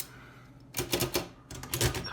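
An Oliver typewriter is typed right to the end of its carriage line and the carriage is released, giving two close bursts of sharp, rapid mechanical clacks separated by a brief pause.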